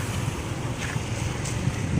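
Steady, strong typhoon wind roaring across the microphone, a dense rumbling whoosh that never lets up for the whole stretch.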